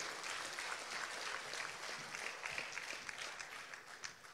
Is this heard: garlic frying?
no